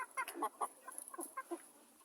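Young chickens cluck in a rapid, uneven run of short calls, fairly close and moderately loud, with no talking over them.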